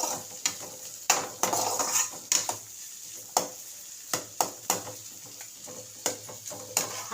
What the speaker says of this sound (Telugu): ఆనియన్స్, ఒక 2 సెకండ్స్ వేగాలండి.